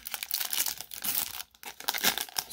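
A 2021 Topps baseball card pack is torn open up close, its foil wrapper crinkling and ripping in quick bursts with a brief pause midway.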